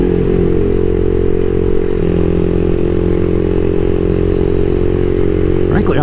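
CSC SG250 motorcycle fitted with a MotoCult Stage 4 kit, heard while riding: a loud, steady, low engine drone holding an even pitch throughout, with some wind rumble and a faint rising note near the end.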